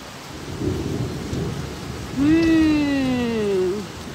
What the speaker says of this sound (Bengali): আমাদের এখানে অনেক বৃষ্টি হচ্ছে।